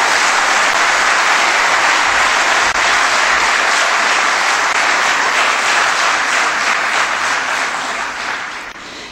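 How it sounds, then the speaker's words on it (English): Conference audience at a large hall gives sustained, loud applause, a thick continuous roar of many hands clapping that holds steady and then begins to taper off near the end. "May you please give Dr. Ishrat a big round of applause."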